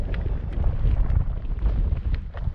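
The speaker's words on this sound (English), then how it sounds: "It's cold and windy again." Cold wind in the Mojave Desert buffets the microphone with a steady low rumble and gusty roar throughout, no voices present.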